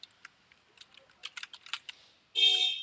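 Typing code on a computer keyboard: a faint, irregular run of quick key clicks, close by and alone, ending in a brief louder burst.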